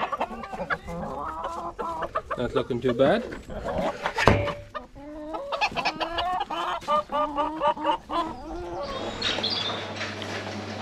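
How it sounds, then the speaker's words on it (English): Hens hatched on the farm cluck and squawk close by in a shed, busy and uneven. Someone speaks briefly over them. "So there's some of the hens we hatched."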